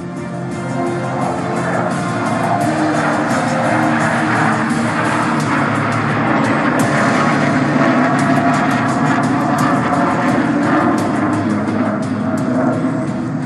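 A HAL Tejas fighter jet banks and turns at the Dubai Air Show 2021, its broad engine roar steady, loud and far-reaching throughout, with a faint crowd and announcer blended underneath.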